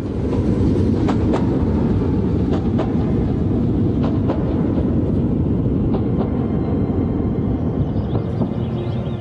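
A train rolls along steadily, its loud continuous rumble marked by recurring metallic clicks from the wheels on the track. No voices are heard.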